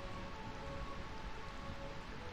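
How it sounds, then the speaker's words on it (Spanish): Steady rain falls in the kingdom of eternal rain, Burmecia, in the game Final Fantasy IX, a faint, even wash of drops with no talking. "el reino de la lluvia eterna"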